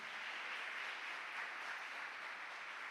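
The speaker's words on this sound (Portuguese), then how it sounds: "A igreja pode aplaudir os nossos visitantes?" Church congregation applauding visitors during a worship service, a soft, even, sustained wash of clapping from a crowd, low in level and without speech.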